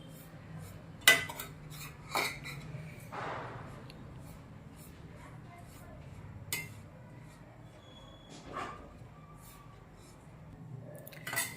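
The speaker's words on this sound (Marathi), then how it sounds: "पण खोबरं भाजून घेऊया" Grated dry coconut is dry-roasted in a pan for a sweet filling, with a quiet background and scattered clinks and scrapes of a spoon stirring against metal, a few sharp and several soft.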